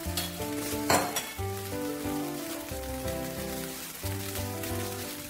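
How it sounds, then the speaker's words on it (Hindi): Onions and vegetables sauté in a spoonful of oil in a pan for a chicken fajita wrap, giving a steady crackling sizzle beneath background music. "अब हम इसी पैन में थोड़ा सा ऑयल डाल के अपनी सब्जियां सौते कर लेंगे"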